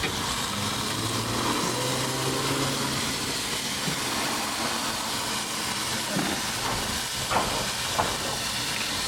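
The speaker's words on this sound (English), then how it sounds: "She's still sizzling pretty good" Steady sizzling hiss of chicken on a hot Big Green Egg grill, continuous and close, with a couple of soft clicks near the end.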